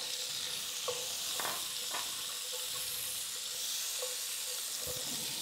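Shallots sizzling in hot oil in a Dutch oven, a steady bright hiss throughout with a few soft stirring clicks and scrapes, close and moderate in level.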